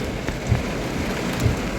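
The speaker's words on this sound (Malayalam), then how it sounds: "ഭയങ്കര മഴയാണ്. അടിപൊളി മഴയാ." Heavy rain pours down during a rainy-day road trip to Coimbatore, a steady dense hiss of falling water with no voices over it.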